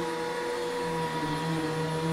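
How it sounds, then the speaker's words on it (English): A household vacuum cleaner runs steadily at close range, a constant motor whine with a droning hum that holds for the whole stretch, while a pet ferret tries to attack it. "So she tries to attack the vacuum."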